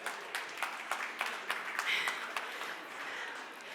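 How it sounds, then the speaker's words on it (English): Light audience applause from a small group, a few distinct claps standing out over a soft, continuous patter of hands, fairly quiet and brief. "Give yourselves a round of applause."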